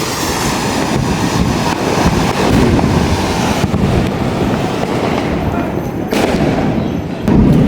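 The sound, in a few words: fireworks bursting in front of houses in Chennai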